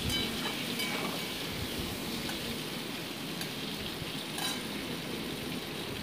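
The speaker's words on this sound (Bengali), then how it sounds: "দিয়ে কিছুক্ষণ আলুর টুকরোগুলোকে ভেজে নিচ্ছি আমি।" Potato pieces fry in a pan with a steady, dense crackling hiss that holds at an even level throughout, with only faint scattered pops and no talk.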